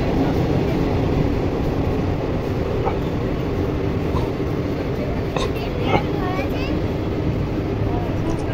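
A Howrah-bound train rolls through Durgapur railway station, its heavy continuous rumble steady and close throughout, with brief squeals and clanks rising near the end and people talking nearby.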